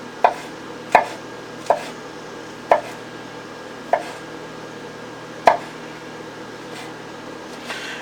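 Knife chopping mushrooms on a cutting board, seven or eight sharp, distinct chops at an uneven pace, close by over a steady hum of room or kitchen ventilation noise.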